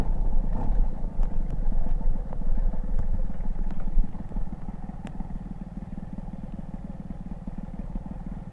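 A 50cc moped with an Airsal 45 mm kit idles very low and unevenly, a close, rough, rumbling putter with a clattery edge that sags toward stalling.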